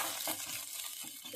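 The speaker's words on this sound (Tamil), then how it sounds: "இதெல்லாம் சேர்த்து பொரி வரைக்கும் கொஞ்சம் ப்ரௌன் ஆகிற வரைக்கும் வறுத்துடலாம்." Steady crackling sizzle of spices and lentils frying in hot coconut oil, with a soft stirring scrape, close and continuous.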